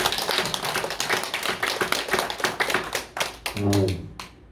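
A church congregation applauds steadily during a Sunday service in Samcheok, South Korea, many hands clapping together, with a voice coming in near the end.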